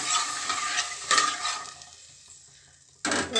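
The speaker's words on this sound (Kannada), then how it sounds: "ಇದು ಎಣ್ಣೆಲೆ ಚೆನ್ನಾಗಿ ಫ್ರೈ ಆಗಬೇಕು" Avarekalu beans fry in hot oil with tomato for a sambar, a steady close sizzle with stirring scrapes, dipping briefly midway before a louder burst of sizzling returns.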